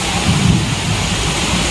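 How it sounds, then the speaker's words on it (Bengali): Heavy monsoon downpour hammers steadily outside while a deep roll of thunder rumbles through the first half, loud and close, then settles back into the dense hiss of rain. "যেমন মেঘ ডাকা তেমন বৃষ্টি"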